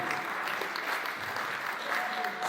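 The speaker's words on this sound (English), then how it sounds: "A big round of applause for Professor." An audience at a World Environment Day event applauds a professor with a steady wash of many hands clapping, fairly distant, with some voices mixed in.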